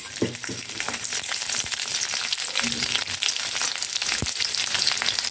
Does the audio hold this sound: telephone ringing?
no